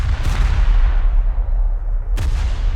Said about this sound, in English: Are these guys taking shots?